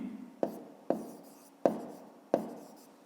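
A pen writes in a notebook as a student works a maths exercise, making four distinct scratchy strokes evenly spaced, close and soft against a quiet room.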